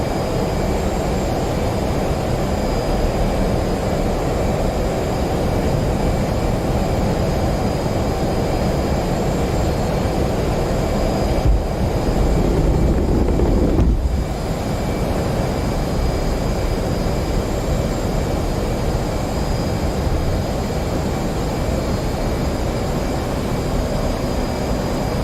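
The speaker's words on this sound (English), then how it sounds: "There's the afterburner kicks in." An F/A-18 Hornet jet roars with afterburner in the DCS World flight sim, a steady broadband engine rush throughout with a brief louder swell near the middle.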